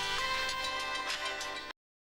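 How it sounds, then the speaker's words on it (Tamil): An incoming call rings on a phone, a steady repeating electronic ringtone with a pulsing rhythm that plays for under two seconds and then cuts off abruptly into silence. "ஏதோ நம்பர்லேருந்து ஃபோன் வருது."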